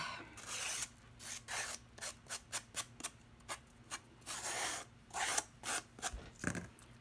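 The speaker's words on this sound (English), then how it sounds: "So I just thought we'd sand them" Junk journal pages are sanded by hand in short, quick scratchy strokes, some in rapid bursts and some in longer rubs, faint and close with no voices.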